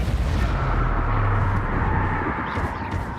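A Confringo blasting spell in a Harry Potter video game produces a loud, continuous rumbling boom with a thick low roar that holds steady for several seconds, with faint crackles and higher debris noise near the end.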